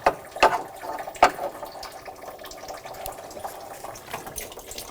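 Coolant drains from the radiator of a 2000–2006 BMW X5 3.0L inline-six, a steady trickle of liquid with a couple of brief louder splashes near the start and a quieter run afterward.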